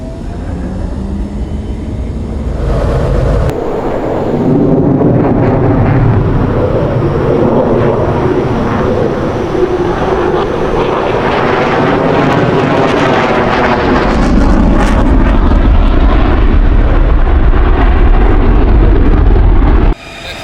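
A Raptor jet fighter flies the Cobra maneuver using thrust vectoring, its engine producing a loud, sustained roar that swells and holds steady for about twenty seconds with no talk over it.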